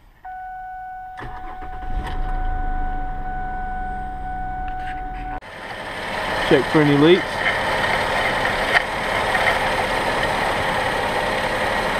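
A 2005-2012 Mercury Milan with a 3.0L V6 cranks briefly and catches, then settles into a steady, close idle; a dashboard chime and a short spoken phrase come before the start.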